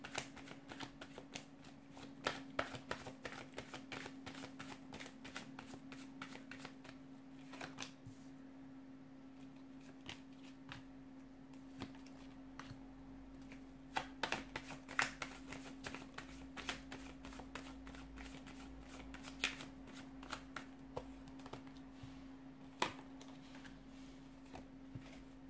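A deck of tarot cards shuffled by hand in a quiet room, a soft continuous patter of crisp card flicks and riffles running throughout, fairly faint and close.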